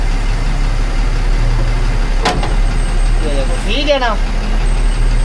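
A terminal truck's diesel engine idling and pulling away at a parking training yard, a loud steady low rumble with a brief hiss, under someone speaking.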